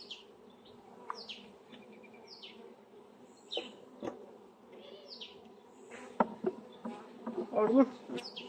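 Honeybees hum steadily at a hive in April, a low, continuous buzz with individual bees flying close past, while distant birds chirp now and then.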